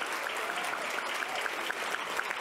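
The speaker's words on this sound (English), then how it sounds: "let's have a round of applause for the team" An audience at a conference plenary session claps steadily for a couple of seconds, a soft, even patter of many hands heard from within the room.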